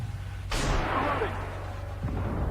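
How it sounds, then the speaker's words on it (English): A BMD-4 fires a missile in the tank game Armored Warfare: a single sharp launch with a long whooshing, fading tail, then a duller thump, over a low engine rumble. "so if I just keep pumping missiles into these guys"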